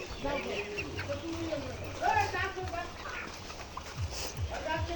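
Young layer pullets, about 78 days old, cluck softly in short bursts close by on a farm while a person talks over them, with some rustling and light knocks.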